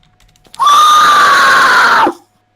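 A single sustained human scream imitating a horror movie scream, muffled to keep it quiet, lasting about a second and a half, loud and close with a wavering high pitch that drops off sharply at the end.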